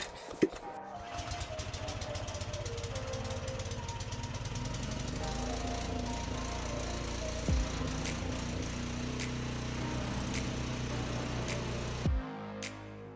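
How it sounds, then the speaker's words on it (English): A 4400 PSI pressure washer with a sand siphon attachment wet sandblasts a shipping container, its engine running with a continuous loud drone and hiss that cuts off at the end, broken by a couple of sharp knocks. "We used a 4400 PSI pressure washer with a sand siphon attachment to wet sandblast the container."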